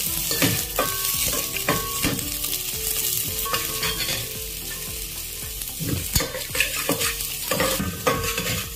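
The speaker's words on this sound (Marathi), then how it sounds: "पातेलं गरम झाले तर त्यात आपण चिरलेले कांदे टाकून देऊ." Chopped onions sizzle and fry in a hot pot with oil, a loud continuous crackle broken by regular scraping and clinking as they are stirred.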